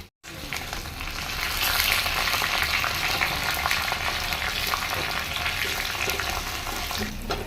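Steady, dense sizzling of cumin and tempering spices frying in hot oil, a crackling hiss that holds evenly throughout with no voices.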